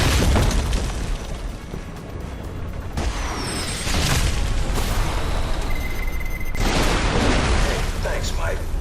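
Loud gunfire and heavy explosions in the video game Alpha Protocol, several booming blasts with sharp bursts and rumbling tails, a voice speaking over parts of the chaos.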